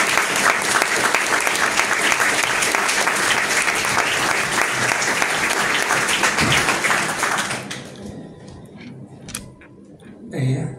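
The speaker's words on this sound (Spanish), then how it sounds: "pido un fuerte aplauso" Loud, dense audience applause at an academy's 150th anniversary ceremony, sustained for several seconds before thinning out and fading to scattered claps near the end.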